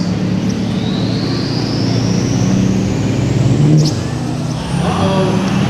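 Ford and Duramax diesel pickup trucks drag racing on a production track, engines roaring loud and sustained with a rising turbo whine sweeping upward, a crowd and faint voices under the din.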